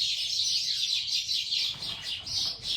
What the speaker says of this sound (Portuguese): quanto passarinho